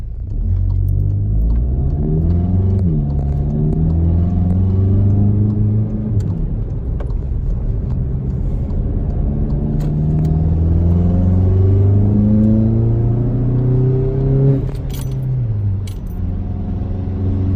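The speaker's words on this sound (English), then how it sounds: "now we're going to see how the intake actually sounds with load on it" A Mk7 Volkswagen GTI engine with an aftermarket intake and turbo inlet pulls hard through several gears under load, its drone rising in pitch and dropping at each shift, with intake rush and faint rattles in the cabin.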